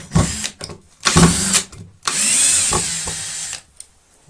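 A Tekhmann TCD-60/i20 cordless screwdriver driving a 75 mm screw into wood, with short whirring bursts and then one longer sustained run of the motor, loud and close.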